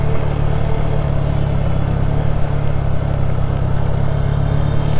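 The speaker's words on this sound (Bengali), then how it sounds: "আর নামানোর সময় কিন্তু আরপিএম এর হাই হয়ে যায়।" A vehicle engine holds a high rpm while creeping down an extremely steep, slippery hill road on the route from Bandarban to Thanchi. It gives a loud, steady, close drone with no pauses.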